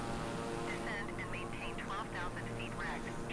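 A King Air turboprop flying in a flight simulator gives a steady engine drone and hum throughout, under continuous close talking from a man.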